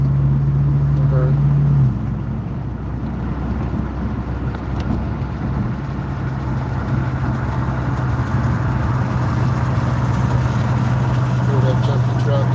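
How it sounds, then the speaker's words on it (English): An old, junky truck engine rumbles steadily on the road, a continuous low drone with passing traffic noise throughout, fairly close and loud, with no clear speech over it. "Hear that junky truck."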